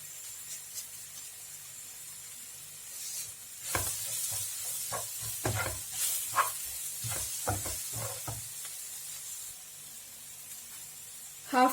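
Mushroom masala sautéing in oil in a pan, with a steady low sizzle broken by bursts of stirring scrapes and clatter in the middle, close and fairly quiet.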